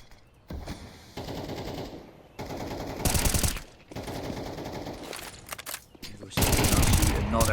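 Bursts of AK rifle gunfire in an online team shooter match, rapid automatic volleys separated by short pauses, loud and close, with a commentator talking between and over the shots.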